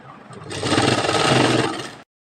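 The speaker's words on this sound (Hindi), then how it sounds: "उसी सिलाई पर रखकर लेस को इस तरीके से सिलाई लगा देना है।" A sewing machine stitches lace onto strips of trouser fabric in one loud, steady whirring run of about one and a half seconds, then stops abruptly.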